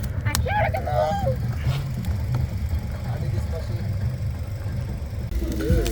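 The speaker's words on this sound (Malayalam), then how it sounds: "പക്ഷി വിളിക്കുന്നു." Outdoors by the sea during a barbecue setup, a bird gives a few short honking, goose-like calls early on, over a steady low engine-like rumble and background noise.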